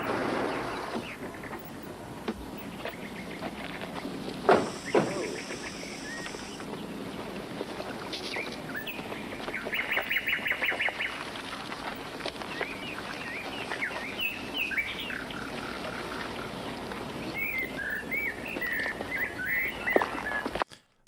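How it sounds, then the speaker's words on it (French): Birdsong in a video game, where it replaces cricket sounds: scattered chirps and trilling calls over a steady ambient wash with occasional louder thumps, moderately loud and without talk. "il a troqué le son de grillon par un son d'oiseau"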